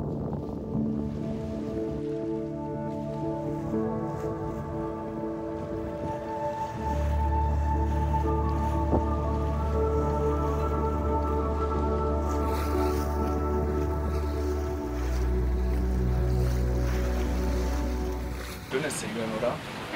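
Sailing boat moving through sea waves off the Peloponnese in Greece, with steady hull wash and wind beneath a sustained low engine-like drone and tonal hum, continuous throughout.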